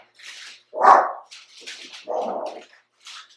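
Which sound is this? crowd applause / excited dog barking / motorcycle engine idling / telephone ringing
excited dog barking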